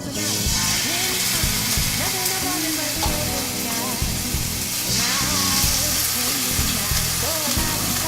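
Salmon sears in a hot pan of olive oil with a loud, steady sizzle that crackles and spits without a break, right up close, while some faint background sounds drift underneath.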